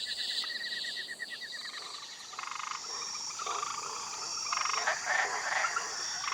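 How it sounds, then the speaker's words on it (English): Tiny brightly coloured poisonous frogs call from bromeliad- and moss-covered rainforest treetops, a dense chorus of rapid high trills and chirps with insects buzzing beneath. "Tiny frogs swarm over this mass of vegetation."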